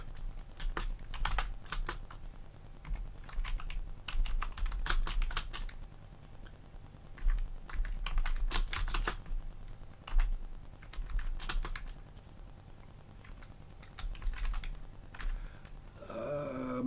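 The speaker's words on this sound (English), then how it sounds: "My typing is atrocious." Close keyboard typing in irregular bursts of clicks, pausing now and then, with no talking.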